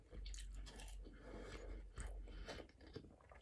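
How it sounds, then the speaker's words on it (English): Close-up chewing of crunchy chip-shop chips during a chicken burger mukbang: irregular crisp bites and soft mastication, quiet and intimate, with no talking. "these crisps are nice and crunchy"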